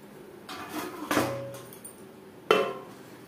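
A metal lid set onto a cooking pot of katla fish curry with taro root after the gas flame is switched off, giving two sharp, ringing clanks a second or so apart, close by, with lighter rattles before them.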